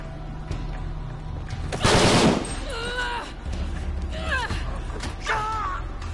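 AK rifle fire in Shadow of the Tomb Raider comes as one loud burst in the middle, amid game sounds and brief voices.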